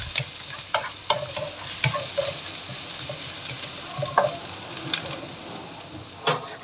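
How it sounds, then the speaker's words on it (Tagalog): Garlic and ginger fry in a pan, a steady sizzle under repeated scrapes and clinks of a utensil stirring, close and clear with no speech. "Hinahalo-halo ko at hintayin hanggang sa mag-brown din po yung"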